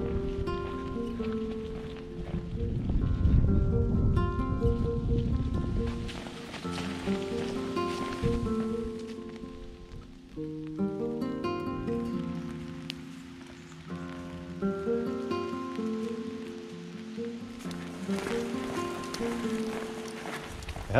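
Steady rain patters on surfaces during a long-distance hike on the Welterbesteig trail in the Wachau, Lower Austria, continuous and close, with voices and other tonal sounds intermittently over it.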